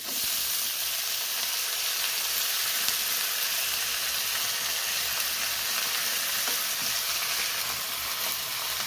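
Amaranth greens (mulaikeerai) sizzle steadily in a hot pan while being stirred, a dense, continuous frying hiss close by with occasional scraping, and no talking.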